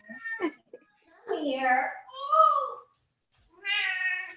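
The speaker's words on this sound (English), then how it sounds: "My cat is chiming in." A female cat meows several times, drawn-out and up close, alternating with a voice speaking to her.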